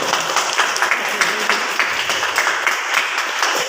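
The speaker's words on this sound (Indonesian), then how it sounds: "Tepuk tangan dulu nih." An indoor audience applauds for a presentation, dense continuous clapping at a steady level with no single claps standing out.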